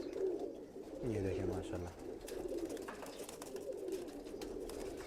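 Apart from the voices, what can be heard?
pigeon cooing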